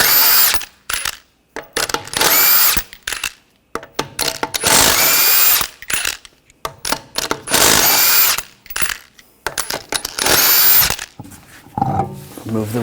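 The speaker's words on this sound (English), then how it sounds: "take the lug nuts off" A power tool with a 21mm socket runs in repeated loud whirring bursts with short pauses between them as it spins lug nuts off a Nissan Rogue front wheel.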